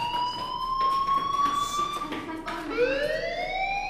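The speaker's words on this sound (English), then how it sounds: "Hey, do you hear that fire alarm? That means you should be outside." A fire alarm in the video game Life is Strange rings with a loud, steady electronic tone that holds level and then sweeps up in pitch, repeating alone without voices.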